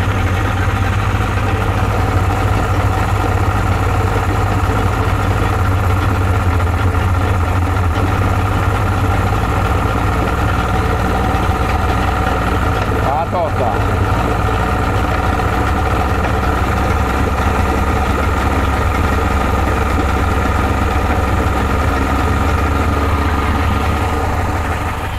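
A Yamaha 60 outboard motor idles steadily with its idle adjustment screwed fully out, a constant close, loud low rumble with a steady hum and no pauses or talking.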